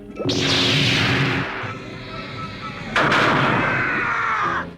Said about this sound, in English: Give it the glass gas, Cliffjumper